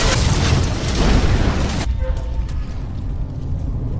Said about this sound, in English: As a result of the explosion, Anders was killed instantly, and debris from the explosion also hit Emily's leg